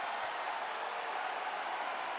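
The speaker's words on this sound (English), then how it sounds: "the crowd voicing its appreciation" Crowd applause filling the arena at a mixed martial arts championship fight after a knockdown, a dense steady wash of clapping and cheering with no break, at moderate level throughout.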